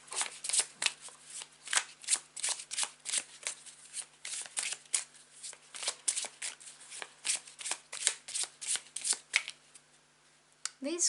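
Tarot cards are shuffled up close in quick repeated riffles and slides, a dense run of crisp papery flutters with brief pauses, while a person talks softly between them.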